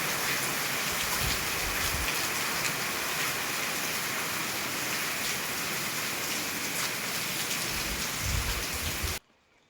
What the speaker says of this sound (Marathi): पाऊस लागतोय